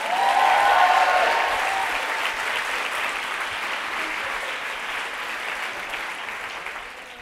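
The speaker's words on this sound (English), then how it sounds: "Another round of applause over here." Conference audience giving a sustained round of applause, a dense, loud wash of many hands clapping that stays steady and tapers slightly toward the end.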